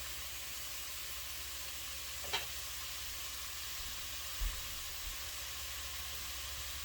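Peppered shrimp cooking with their shells on sizzle in a pan, a steady soft hiss running throughout with a couple of faint clinks.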